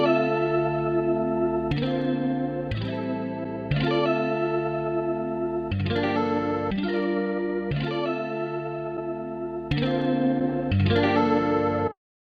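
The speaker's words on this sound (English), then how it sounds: "you can definitely hear the difference with the chorus effect in and out" A sustained synth chord progression repeats, alternating between a plain dry tone and a wider, shimmering sound as a Native Instruments Maschine stock chorus effect switches on and off; steady and loud, with no voices.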